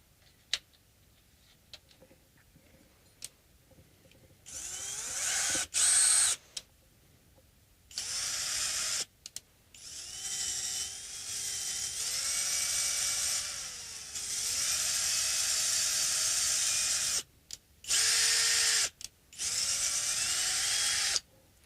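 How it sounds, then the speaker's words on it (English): A power drill boring a countersunk hole while a Hondo 779 3/4 piece is being worked on, running in several whining bursts that rise and fall in pitch, with short pauses and stops in between. "It's easier for the drill bit to start if it's countersunk."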